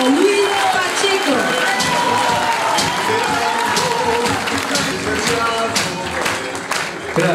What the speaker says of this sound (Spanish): Pido un fuerte aplauso para recibir la palabra del precandidato a intendente Guillermo Luis Pacheco.